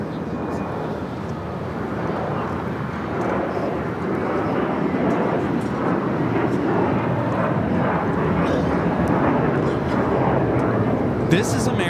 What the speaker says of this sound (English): This is American Airlines 1585 taking off to Charlotte on the A321